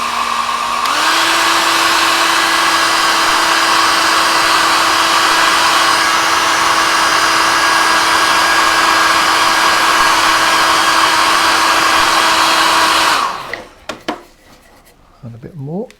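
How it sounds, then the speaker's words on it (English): A hair dryer roars steadily at close range for about thirteen seconds while melting beeswax onto a wood carving, then cuts off, leaving a few faint knocks and rustles. "and then I melt it with a hairdryer"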